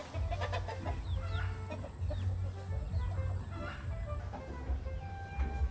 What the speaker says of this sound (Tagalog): Mahilig din kasi si Manager Bio mag-alaga-alaga ng mga manok, oh.